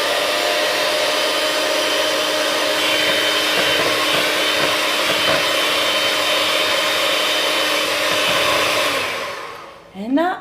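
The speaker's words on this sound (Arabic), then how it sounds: "انا غادي نخدم بالباتور." An electric hand mixer beats lemon shortbread dough with a steady, loud whir that runs without a break for about nine seconds, then winds down and stops near the end. No one speaks.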